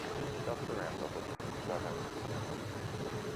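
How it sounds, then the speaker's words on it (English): A Delta Boeing 767 airliner arriving to land gives a steady engine roar throughout, with a brief dropout midway and a voice talking over it. "And we have a Delta 767 arrival."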